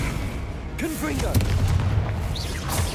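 In Hogwarts Legacy, the Confringo spell lets off a booming explosive blast that rumbles under game effects and a voice during a fight, followed by further magical whooshes.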